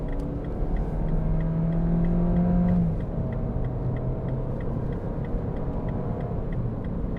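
A 2014 MINI Countryman Cooper ALL4 1.6 automatic with four-wheel drive accelerates from inside the cabin. The engine drone is steady and loud, with a rising tone that settles after about three seconds into a continuous rumble.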